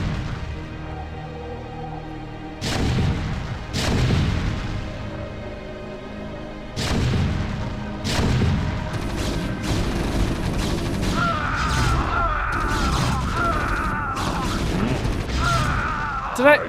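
Siege tank artillery in StarCraft: several heavy booming blasts at intervals, followed by a stretch of dense, continuous battle noise with layered impacts and mechanical effects.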